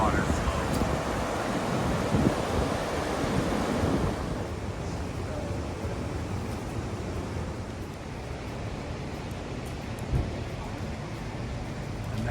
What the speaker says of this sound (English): it brings us to a beautiful waterfall.